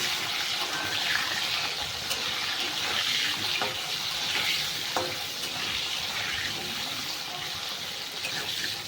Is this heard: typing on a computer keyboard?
no